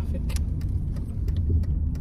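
A classic car drives through traffic, its engine giving a steady low rumble with light rattles and clicks over the top.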